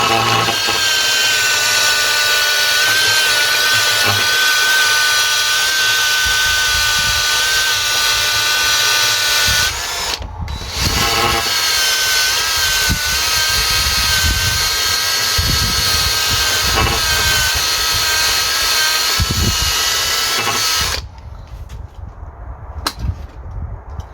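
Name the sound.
grinder clearing debris on Audi A4 bushing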